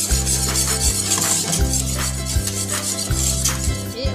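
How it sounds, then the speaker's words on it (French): A spoon stirs half a litre of milk with cornstarch in a pot for a béchamel, making repeated scraping, swishing strokes against the pot in a steady rhythm, close and clear with no speech. "On remue bien."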